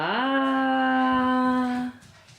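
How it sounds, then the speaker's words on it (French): A dog howls in one long, loud, sustained tone that holds steady and then cuts off, heard close up in an evening lodging near Yosemite. "Le chien, il est au taquet."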